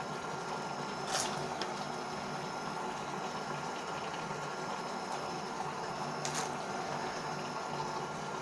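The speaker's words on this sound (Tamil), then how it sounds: "தண்ணி கொதிக்க இருக்குது." Water heating in a pot toward a boil for making filter coffee, a steady low hiss and simmering rush running continuously with no talk, two brief brighter splashes or clinks near the start and later.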